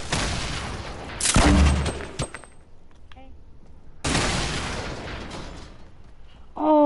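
Rockets exploding amid gunfire in a shooter game, with two loud blasts each followed by crackling debris and a decaying tail, separated by quieter stretches and closing with a sharp burst.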